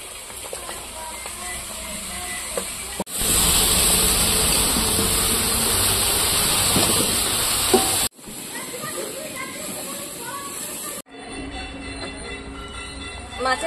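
Eggplant pieces drop into hot mustard oil in a home kitchen pan, setting off a sudden loud, steady sizzle that runs for several seconds before cutting off abruptly, with quieter frying continuing afterward.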